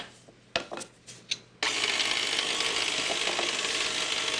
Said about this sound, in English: I'm going to sift all of this into a bowl.